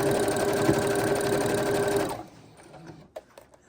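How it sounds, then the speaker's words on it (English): A sewing machine runs a steady quarter-inch quilt seam for about two seconds, close and continuous, then stops, leaving a few faint handling clicks and taps. "we're just going to go ahead and keep to our 1/4 inch stitch, slowly across"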